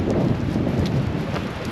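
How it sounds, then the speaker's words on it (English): Wind blows hard across a campsite, a constant rumbling buffet of gusts hitting the microphone for the whole short stretch, with no talking. "It's very windy."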